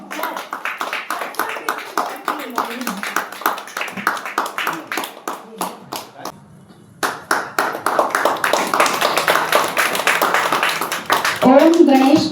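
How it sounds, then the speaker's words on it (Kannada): Audience applause at the grand inauguration of a children's arts school, sustained rapid clapping from many hands that dips briefly midway, then resumes more strongly, with a voice speaking over the end. "ಚಪ್ಪಾಳೆ ಮೂಲಕ ಪ್ರೋತ್ಸಾಹಿಸಬೇಕು"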